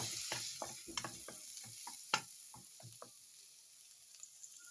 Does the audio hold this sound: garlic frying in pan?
yes